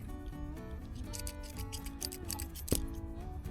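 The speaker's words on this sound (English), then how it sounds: "Cut the excess." Scissors snipping off the excess strap during a leather seat install in a Ford F-250, a few quick clicks and one sharp cut near the end, close and fairly quiet.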